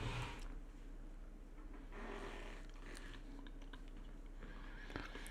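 Candies being crunched and chewed close up, with steady biting and crunching bursts over a low background hum and no talk.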